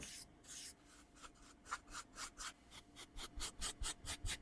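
A stiff, hardened paintbrush is dragged lightly in diagonal strokes across a crafted wooden-style surface, making a series of dry, scratchy swishes in a quickening rhythm, close and quiet, with no talk.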